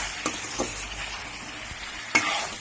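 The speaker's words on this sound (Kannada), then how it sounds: "ಸ್ವಲ್ಪ ಉಪ್ಪು ಹಾಕ್ಬಿಟ್ಟು ನೀಟಾಗಿ ಅದು ಫ್ರೈ ಆಗೋಕ್ಕೆ ಬಿಡಬೇಕು" Green chilli, onion, mint and fenugreek fry in a pan with a soft, steady sizzle, broken by a few sharp scraping stirs of a spoon against the metal.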